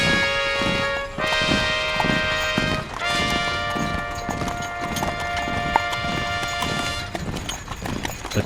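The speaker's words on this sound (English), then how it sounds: "A two-horse-drawn wagon rounded the corner." Hooves of a two-horse-drawn wagon in an audio drama, a steady rhythmic clip-clop beneath sustained ringing bell-like tones.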